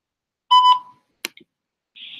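A voicemail recording beep during a phone call, one clear electronic tone lasting about a quarter second, followed by a short click and later a fainter buzzy tone, otherwise silent.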